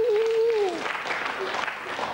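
Studio audience applause breaks out on a French entertainment show, rising as a wash of clapping after a voice trails off at the start and continuing steadily beneath him.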